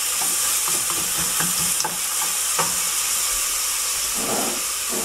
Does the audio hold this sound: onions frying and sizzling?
yes